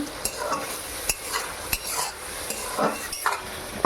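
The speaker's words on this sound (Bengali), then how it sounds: "দিয়ে আবারও একবার নাড়িয়ে নেব" A utensil scrapes and stirs a koi fish dish in a pan with repeated quick strokes over a soft, steady sizzle; no voices.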